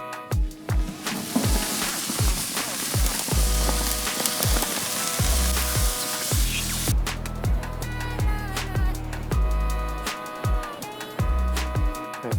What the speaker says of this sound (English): We're rendering down the bear fat, hoping to make some lard out of it to bake with